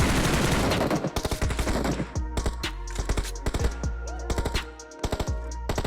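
Gunfire in the mobile battle royale game BGMI: a dense burst of rapid automatic shots at the start, then irregular volleys of sharp, loud reports over a steady low game rumble, with no talking.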